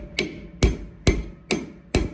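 A hammer taps a cap into a U-joint held in a vise, with five evenly spaced, sharp metallic knocks at close range and no talking.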